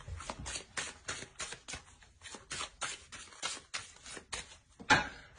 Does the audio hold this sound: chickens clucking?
no